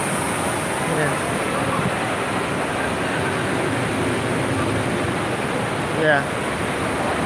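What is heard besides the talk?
indoor water park at West Edmonton Mall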